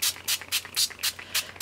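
Coloring spray is sprayed onto seam binding in about seven quick, close hissing bursts with short pauses between them.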